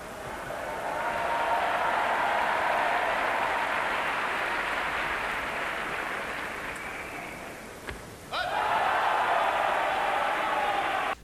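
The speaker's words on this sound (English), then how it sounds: "listen to how the crowd reacts with joy that they finally get to see fencers doing actual fencing" A fencing crowd bursts into sustained, joyful applause with cheering, a broad wash of clapping that dips briefly and then swells again.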